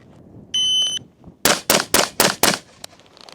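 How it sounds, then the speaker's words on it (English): A shot timer beeps, then a rifle fires five rapid shots in about one second, loud and close, each crack sharp and evenly spaced during a rifle training drill. "Here we go, shooter, 5 rounds, 2 seconds."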